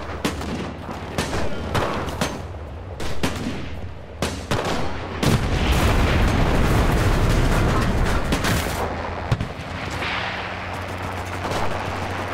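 AK rifle gunfire in a video game, sharp cracking shots in scattered bursts followed by a longer stretch of heavy continuous firing, then more separate shots near the end, loud and close with no talk.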